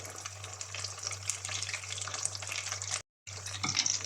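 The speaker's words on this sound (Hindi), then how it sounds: "बस 1 मिनट फ्राई करेंगे और निकाल लेंगे।" Chicken sizzling and crackling steadily in hot oil for a crispy Delhi Jama Masjid style fry, a continuous close frying hiss with a brief cut near the end and some stirring.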